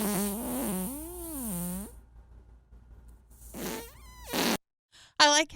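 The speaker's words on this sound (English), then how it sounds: "he has to go to a separate thing to play Marcy's fart" Fart sound effect played from a soundboard, a long, wavering, drawn-out squeal followed by more short bursts, loud and close over a quiet room.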